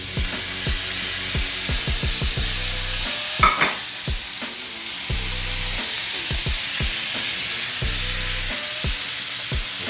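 Steak juices sizzle steadily in a hot pan while a cook makes ribeye steak tacos, with a string of sharp stirring clicks and scrapes over the constant frying hiss and no talking.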